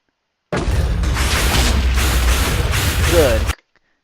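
A Minecraft wither explodes as it spawns, a loud, roaring blast that rumbles for about three seconds with pulsing surges, then cuts off abruptly into silence.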